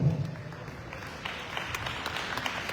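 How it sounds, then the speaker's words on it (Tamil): Scattered applause from the audience at a Tamil diaspora conference in Sydney, fairly quiet and distant, rising slightly after a brief opening voice and continuing as a soft, even patter. "அவருக்கு பலத்த கைத்தட்டு கொடுக்கணும்"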